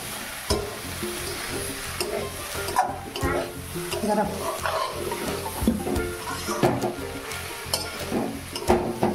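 Jackfruit curry being sautéed in a pan, with a close, busy sizzle and repeated scraping, knocking stirs of a spoon against the pan, continuing throughout without talk.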